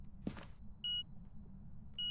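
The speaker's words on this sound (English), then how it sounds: "What's that beeping noise?" An EMF 5 reader in a ghost hunting video game gives two short, faint electronic beeps about a second apart against a near-silent background.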